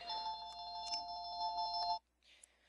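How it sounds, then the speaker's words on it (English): A telephone rings with a steady, bright electronic trill for about two seconds, then cuts off abruptly, leaving a faint rustle behind. "Oh, that phone."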